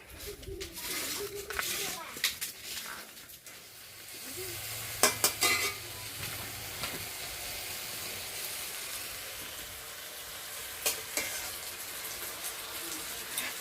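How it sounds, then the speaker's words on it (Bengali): Sliced green plantains and potatoes with black cumin sizzle and crackle in a pan while a spoon or spatula stirs and scrapes, with a person talking over the frying. "তিনটে কাঁচা কলা কয়েকটা আলু কেটে দিয়ে এখানে ভাজা করছি কালো জিরে দিয়ে"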